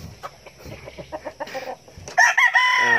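A tall pure Shamo rooster of the Guhan line crows loudly and close by near the end, after a stretch of scattered clucks and quiet farmyard noises.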